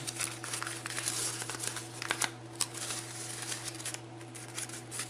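Paper being folded into an origami rose, soft crinkling and creasing sounds in quick irregular bursts, faint and close over a steady background hum.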